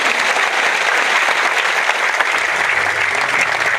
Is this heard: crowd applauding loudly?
yes